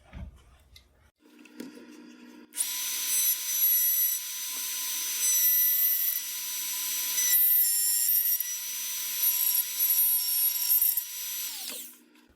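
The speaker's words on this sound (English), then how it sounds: "I'll use the router here." A power router cuts wood while inletting the magazine area on the front left of a military rifle stock, giving a loud, steady high-pitched whine that runs about nine seconds after a brief start-up, with small dips as the cut progresses.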